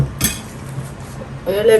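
A metal lid lands on a pot of simmering black fish curry with a short clink, followed by quieter rattling and another clatter near the end.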